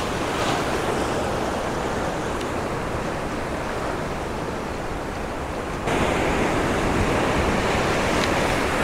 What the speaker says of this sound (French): On va attendre que la grosse vague passe